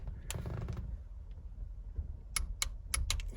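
A Silverado short throw shifter clicks into place during installation: a handful of sharp, close plastic snaps and clicks bunched near the end, over low rumbling handling noise.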